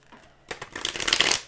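A deck of cards shuffled by hand, a quiet, close riffle that builds into a rapid flurry of crisp snapping and ends after about a second, with no voices.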